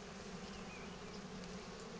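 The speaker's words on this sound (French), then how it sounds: "c'est un faux bourdon" A drone honeybee at an opened hive gives a steady, faint, close buzzing hum, continuous and even throughout with no talking.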